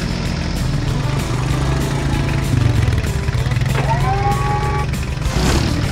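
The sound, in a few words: quad bike engine driving on a farm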